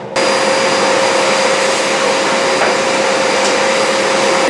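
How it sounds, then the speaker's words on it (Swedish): A vacuum cleaner switches on and then runs loudly and steadily nearby, giving a constant whining roar with a high tonal whine on top. No one speaks. "Jag skulle ju dammsuga och så tar jag bort dammsugaren."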